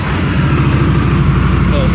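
A 2016 Indian Chieftain Dark Horse motorcycle idling and revving inside a garage, a loud, close, steady low thumping engine rumble that fills the space.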